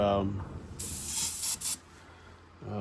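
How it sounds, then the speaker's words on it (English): Airbrush spraying in short bursts during a clean-out while building an MPC Raiders Coach model kit; two close, loud hissing blasts, the second split into quick pulses, with talk briefly before and after. "We'll do a quick clean out of the airbrush"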